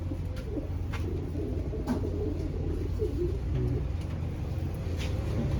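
Racing pigeons coo in low, rolling bursts against a steady background hum, several birds calling close by with overlapping throaty phrases throughout.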